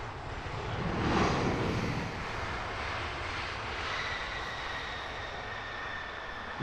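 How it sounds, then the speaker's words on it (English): A Singapore Airlines A350 departs from Heathrow at night, its jet engines giving a distant broadband roar that swells briefly early on and then settles into a steady rumble with a thin whine. "Singapore Airlines A350 lined up for departure."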